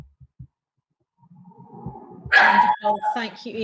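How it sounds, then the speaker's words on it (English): Dogs bark and whimper in the background of a home setting during an online conference, a muffled yelping burst rising under a person speaking nearby. "Excuse the lockdown dogs in the background."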